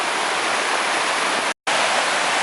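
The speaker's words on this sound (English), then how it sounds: "we're already coming across stunning little waterfalls like this" Small waterfall on a river, a dense continuous hiss of rushing, splashing water, loud and close, broken once by a very brief cut in the sound.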